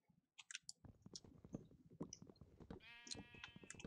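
A Minecraft sheep bleats in a clear, wavering call near the end, after a run of soft clicking and tapping sounds in the game.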